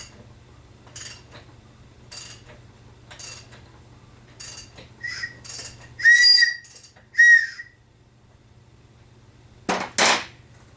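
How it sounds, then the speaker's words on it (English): A shrill whistle sounds in several short bursts, growing louder toward the end, over faint mechanical clicks and a low hum: a cylinder whistle on a BMW E32 M30 engine with 395,000 miles, reaching top dead center during compression testing. "when you bar the engine over, when you get to top dead center,"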